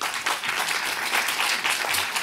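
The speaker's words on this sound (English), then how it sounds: "Can we give her a round of applause," Seminar audience gives a speaker a round of applause, steady dense clapping from a large crowd filling the room throughout.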